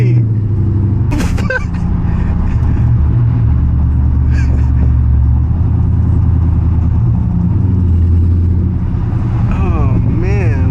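A loud Dodge Charger Scat Pack rumbles deep and steady from inside the car while driving, and voices talk over the engine.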